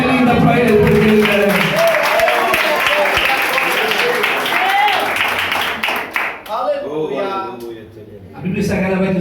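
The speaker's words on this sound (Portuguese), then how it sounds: "dá mais um brado de glória e uma salva de palmas bem linda para Ele" Clapping and cheers from a church congregation mix with voices shouting over each other, loud at first, then thinning before a final burst.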